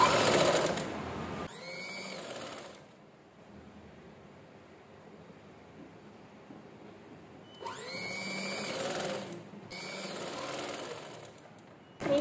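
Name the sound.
sewing machine stitching a boat neck frock neckline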